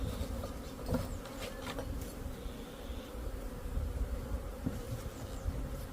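Honeybees hum steadily at a beehive in a dense, close swarm buzz that runs throughout, with occasional soft knocks and handling noises mixed in.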